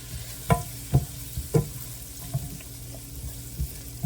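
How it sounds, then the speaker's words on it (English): Butter melting in a pan for surimi crab meat, with soft sizzling under a handful of sharp spoon knocks and scrapes against the pan, close and fairly quiet, no talking. "Let that butter melt all the way out"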